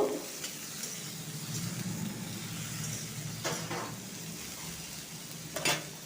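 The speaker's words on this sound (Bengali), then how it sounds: "কুমড়ো বেগুনগুলোকে ভালো করে কষিয়ে নেব" Pumpkin and eggplant stir-fry in a pan, giving a steady low sizzle with a few sharp scrapes of a spatula against the pan, no voices.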